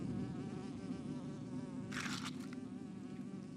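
A sand wasp buzzes near the microphone over sandy soil, a steady droning hum with a brief louder, brighter burst of wing noise partway through.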